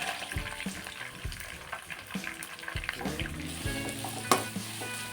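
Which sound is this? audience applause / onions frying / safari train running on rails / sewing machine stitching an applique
onions frying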